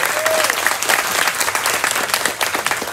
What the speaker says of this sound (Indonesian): Tepuk tangan dulu kepada beliau.